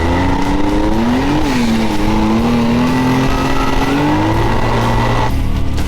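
Can-Am off-road vehicle accelerating, a loud close engine drone whose pitch climbs, dips briefly, then holds steady under rushing wind for several seconds.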